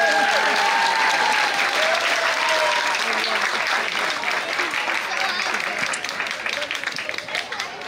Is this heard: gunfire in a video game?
no